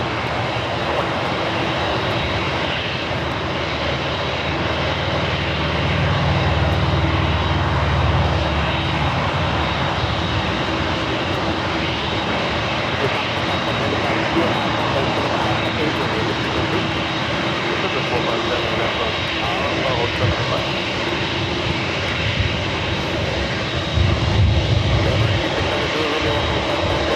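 Asiana Airlines jet airliner passing near LAX, a continuous loud broadband engine roar with a deep rumble that swells and fades over nearly half a minute, voices faintly underneath.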